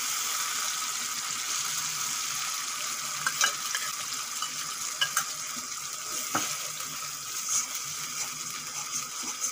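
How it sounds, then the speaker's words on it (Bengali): Tomato paste added to fried spice masala for a green jackfruit curry makes a low, continuous sizzle, with scattered clicks and scrapes of stirring over several seconds. "মশলা কষানো হয়ে গেছে, এখন দিয়ে দেব টমেটো পেস্ট।"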